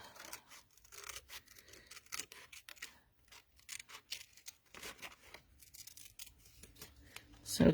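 Scissors snip out a flat felt shape in a quiet run of uneven, close crisp cuts and rustles, with some faint background sound.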